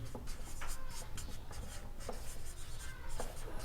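A pen scratches across paper in quick, irregular strokes and taps while working a geometry problem, close and clear with no talk over it.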